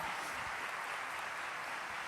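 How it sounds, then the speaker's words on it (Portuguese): A church congregation applauds during a women's and men's congress service, a steady, dense wash of clapping held evenly throughout with no voices rising above it. "vamos aplaudir Jesus"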